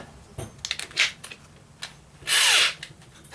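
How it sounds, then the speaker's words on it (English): A power drill fitted with an 80 grit sandpaper disc grinds wood in a loud, harsh burst lasting about half a second, after several brief scraping and tapping sounds. "you can use your 80 grit sandpaper disc, whether if you put it inside your chuck or put it on your drill"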